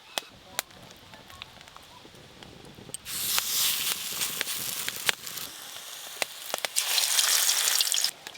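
Battered pumpkin flower fritters fry in hot oil, starting with scattered soft crackles before a loud, close, continuous hissing sizzle swells up and holds, with occasional sharp pops.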